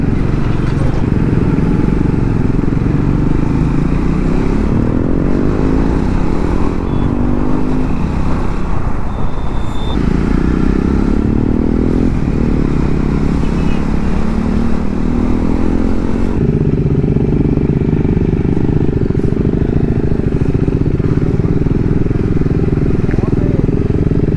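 A loud Triumph Speed 400 motorcycle engine rumbles and revs continuously in Vizag, rising and falling in pitch, with another engine nearby and people talking faintly underneath.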